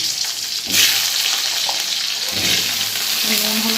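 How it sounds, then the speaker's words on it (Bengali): Potato pieces fry in hot oil with a strong, bubbling sizzle that surges at moments as the pieces are moved, with light stirring scrapes and no speech. "আর এই তেলে আমি এখন এই আলুটা দিয়ে দেব। আলুটাকে একটু ভালো করে ভেজে আগে তুলে নেব।"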